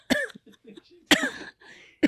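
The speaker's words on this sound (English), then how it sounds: "What are you coughing for?" Three sharp, close coughs spaced about a second apart, each followed by a rough, breathy tail.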